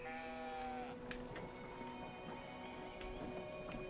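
A sheep in the Brothers: A Tale of Two Sons video game bleats once in a drawn-out, quavering cry, followed by soft clip-clop steps and light clicks over a quiet background.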